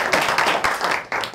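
A brief burst of audience clapping after a talk-show segment, a few sharp, uneven hand claps at moderate distance.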